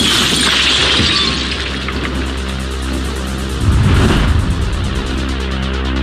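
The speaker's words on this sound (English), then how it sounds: "Military high-speed film shows what it's like when a blast wave hits a wall of glass." Military high-speed footage of a blast wave hitting a wall of glass windows, a loud crashing shatter with a tinkling spray of shards, followed by a heavy low rumble and a second burst of breaking glass.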